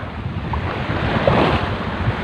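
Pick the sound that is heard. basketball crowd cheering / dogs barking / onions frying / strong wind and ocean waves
strong wind and ocean waves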